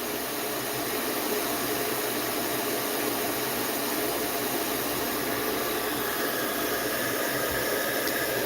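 An older hair dryer blows continuously with a steady, loud airy roar and hiss that holds unchanged from start to finish, with no talking.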